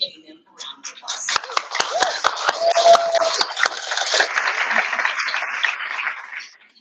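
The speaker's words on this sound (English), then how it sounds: "If you could please join me in giving them a round of applause." Sparse applause from a small audience at a paraeducator program launch event, greeting guests and officials: a few separate claps at first, building into a thin, short round of clapping that fades out, with a voice briefly heard.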